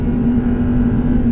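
A supercharged Audi R8 engine runs steady and loud at a held high idle, a constant droning hum close by with no speech.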